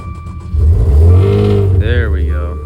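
A wrecked Maserati engine with a badly damaged intercooler cranks and catches, rising into a loud, close revving surge that holds steady before a short, wavering tone near the end.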